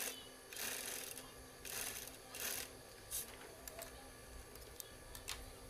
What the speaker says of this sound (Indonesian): caranya seperti ini, kita jahit dulu